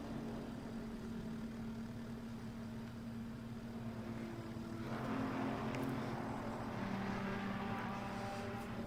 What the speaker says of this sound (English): let's crank the car